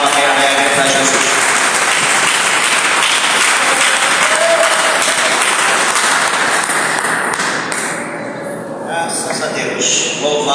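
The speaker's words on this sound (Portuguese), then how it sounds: "dê uma salva de palmas bem alegre para Jesus" Congregation in a Portuguese-speaking church claps joyfully together, sustained loud applause for most of ten seconds, easing slightly near the end, with a voice speaking over it.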